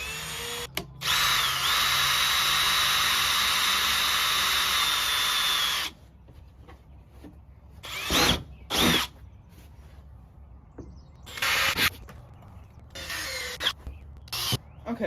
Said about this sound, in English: drill a couple holes right here in the corners